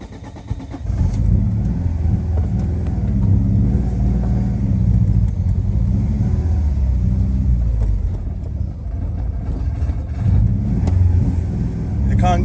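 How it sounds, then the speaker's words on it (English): A Peugeot 106 GTI turbo car engine idles roughly nearby, running lean, its low rumble wavering and surging unevenly with occasional small revs. "It's not idling properly"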